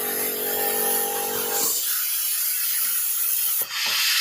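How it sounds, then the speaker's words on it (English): A pneumatic cylinder piston on a pneumatic trainer moves as the switch is turned off, with a steady hiss of air that drops away sharply, leaving near quiet before a brief puff of air near the end. "the cylinder piston will move outside"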